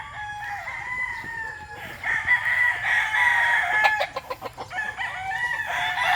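Gamefowl stags crow repeatedly at close range, long drawn-out calls overlapping one another with a busy, clucking farmyard backdrop and no talking.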